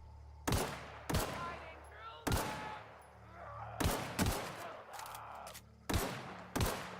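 Gunfire in The Outer Worlds video game: about eight sharp, loud shots in irregular pairs and singles, each trailing into a short echo over a steady low hum, with faint voices in between.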